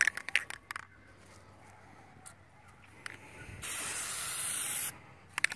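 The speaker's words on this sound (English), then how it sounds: "Spraying like paint now." A single sustained hiss of an aerosol can spraying rubber coating onto car taillights, lasting over a second, preceded and followed by faint clicks and handling noises in a quiet room.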